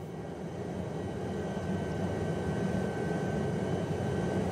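A helicopter in a flight simulator game flying toward Everest Base Camp from Lukla drones with a steady engine hum that builds slightly louder over the few seconds, with no talking.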